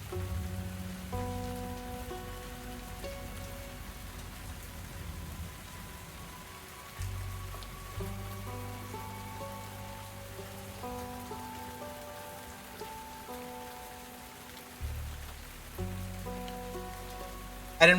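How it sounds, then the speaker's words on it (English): Rain patters steadily in the video game Tavern Talk, a low, constant hiss beneath slow, sustained music notes that shift every few seconds. "Oh, we got a rainy day."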